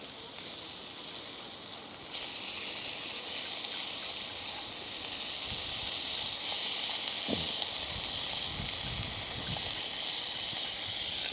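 Sausages sizzle in a pan over a cheap stick stove outdoors, giving a steady, close frying hiss that jumps louder after a couple of seconds and holds on, with a few soft knocks and no voices.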